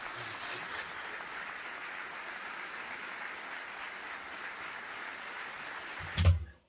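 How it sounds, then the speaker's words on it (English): An audience at a state legislature address claps steadily and evenly, a dense, sustained wash of applause that cuts off abruptly at the end. "They all clap just like that."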